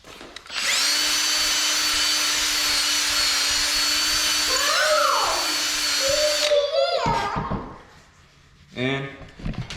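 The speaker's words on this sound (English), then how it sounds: "I forgot to drill the hole and make the lanyard part." A power drill whines steadily at close range while boring a lanyard hole, then cuts off, followed by brief handling clatter and a short higher burst of tool noise.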